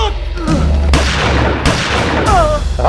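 Gunfire from a police shootout in a Mumbai crime drama about a robbery case: several loud, sharp blasts land about a second apart over constant background noise and commotion.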